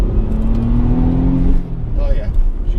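Turbocharged 1998 Audi B5 S4 Avant with Neuspeed tuning pulling hard on a test drive, the engine note rising steadily then easing off, heard loudly from inside the cabin.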